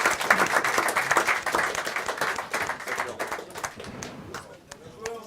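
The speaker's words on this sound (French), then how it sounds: "On peut applaudir Anthony" Applause for a player at a poker tournament final, a close burst of clapping that gradually thins into scattered claps, with voices talking over it.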